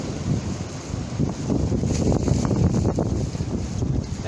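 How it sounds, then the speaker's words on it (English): Strong wind gusts buffet the microphone outdoors on a dark, windy day, a continuous loud rumbling roar with leafy rustle, no voices. "The wind affects him."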